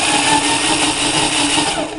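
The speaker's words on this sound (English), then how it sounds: "So this is my little jaw crusher." A small jaw crusher called the Crunch, driven by a 3/8 drill, grinds gold ore and quartz in a continuous loud mechanical roar with gritty rattling throughout.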